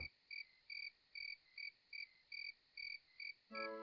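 Crickets chirp in the video game Daggerfall Unity, a faint, steady rhythm of evenly spaced pulsing trills, about three per second, with a brief tonal sound at the very end.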